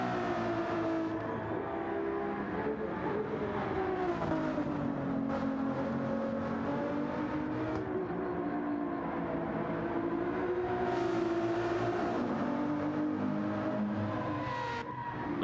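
Race cars, including a Ferrari, in Gran Turismo 7 during an endurance championship race on a drying wet track: a steady, loud engine drone that rises and falls in pitch throughout, with no talking.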